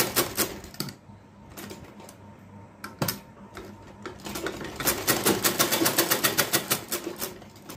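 A sewing machine double-stitches a shirt in stop-start bursts of rapid mechanical ticking, ending in a longer, faster, steady run of needle strokes close by.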